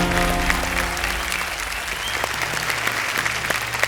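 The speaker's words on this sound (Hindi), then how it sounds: "एक बार फिर जोरदार तालियां बज जाएं इनके लिए।" A studio audience on a televised quiz show breaks into loud, continuous applause, with a brief musical sting fading out underneath at the start.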